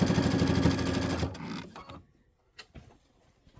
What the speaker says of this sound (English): Let me sew this one side on